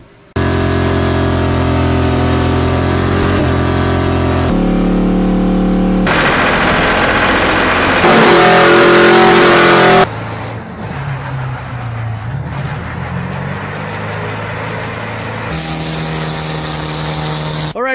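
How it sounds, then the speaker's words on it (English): A car doing a burnout at a Christmas callout event gives a loud, sustained engine roar that shifts in pitch and texture across several cut segments, with harsh rasping revs and heavy low rumble. "you get called out to do a burnout on Christmas"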